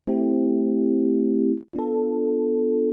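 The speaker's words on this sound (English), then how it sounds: "if I activate the chorus, you get this lovely kind of washed out kind of sound." Two sustained electric piano chords in Ableton 11, one after the other, with a shimmering, slightly wavering chorus wash, played alone.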